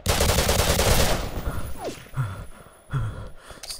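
Sniper gunfire in a shooter game: a dense burst of loud broadband shots fills the first second, followed by a few fainter, spaced reports with quieter ambience between them.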